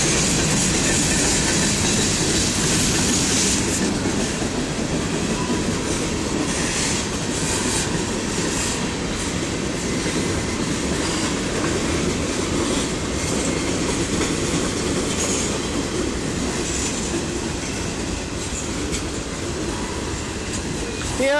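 Union Pacific freight train 7379 rolls through Effingham, Illinois, a steady, loud rumble of rail cars with continuous clattering wheels passing close by for the whole stretch.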